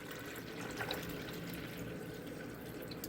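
Water trickles and drips faintly and steadily as it is poured slowly into a 12-cup drip coffee maker, a soft continuous liquid wash with no talking.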